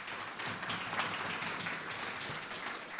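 Summit audience applauding a speaker, a faint, even wash of clapping heard from a distance and continuing steadily throughout.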